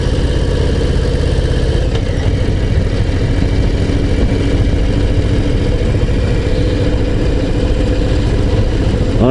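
Harley-Davidson Low Rider ST V-twin engine on the move, a loud, steady rumbling drone held close throughout with only slight shifts in pitch as it cruises gently.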